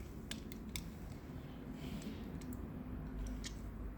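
A metal-bodied model fire engine on a plastic base, its extending snorkel turned around 360 degrees, gives a steady dry creaking and grinding, stiff with age, close and alone with a few sharp clicks.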